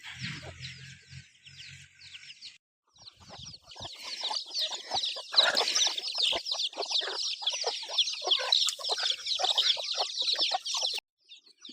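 Several chickens cluck and chatter continuously nearby at feeding time at dusk on a farm, with a brief pause partway through.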